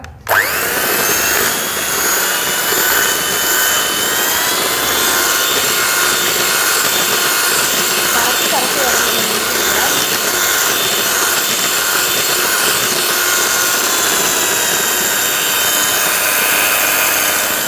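An electric mixer beats homemade plum cake batter in a loud, continuous, close motor whine that holds steady throughout, with no talking.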